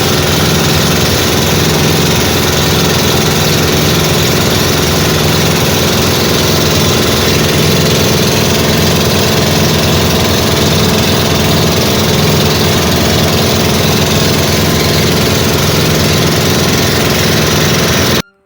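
Motor boat engine on a Philippine bangka, running steadily as a loud, close, unbroken drone with a low throbbing hum that holds for the whole stretch with no talking.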